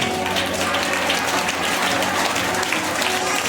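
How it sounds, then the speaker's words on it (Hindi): Loud, steady clapping from a church congregation during a Sunday sermon, filling the room without a break for several seconds, with faint crowd murmur underneath. "ऊंची आवाज से ताली बजा के"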